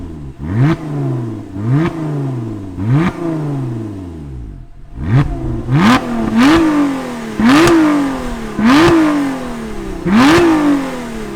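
A supercharged petrol Lotus Emira accelerates hard through repeated pulls, its engine note climbing and dropping back at each upshift, about eight times. The sound is loud and close, with sharp snaps between gears.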